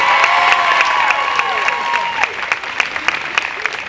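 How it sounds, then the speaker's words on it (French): An audience applauds a prize winner at a French hospitality awards event, a steady round of close clapping that carries on throughout. "sous vos applaudissements, bravo"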